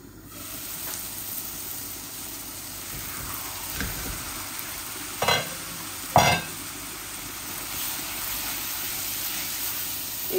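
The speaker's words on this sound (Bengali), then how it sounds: "এই যে আমার চিংড়িগুলা ভাজা ভাজা হচ্ছে" Cleaned, peeled shrimp frying in a pan, a soft continuous sizzle with a few louder bursts of crackling spatter when stirred, close and with no talk.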